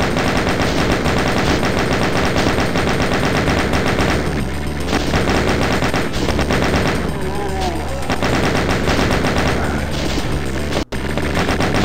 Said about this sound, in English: Shooting blind here